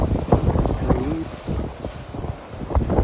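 A sailboat under way in 14 to 15 knots of wind on the Gulf Stream, with steady buffeting wind and water rush close to the microphone, gusting in uneven surges.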